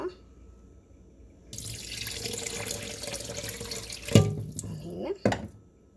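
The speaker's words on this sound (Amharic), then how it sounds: "ውሃ" Water pours into a bowl of dabo kolo dough mix with sugar, salt and oil, a steady splashing stream for a few seconds, followed by a couple of close knocks and a quieter trickle.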